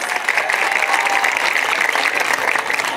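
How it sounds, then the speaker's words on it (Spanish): Applause fills a hall at a quinceañera celebration, dense steady clapping from a large crowd, loud and continuous throughout with no break. "que se escuchen esos aplausos."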